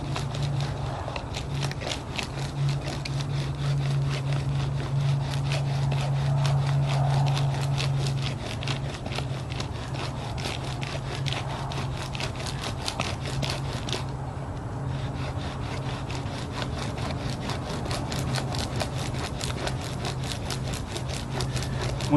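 Wooden bow drill spindle rubbing against a wooden baseboard to build friction for a winter fire, a steady rhythmic back-and-forth scraping that keeps going the whole time at an even, close level with no talking.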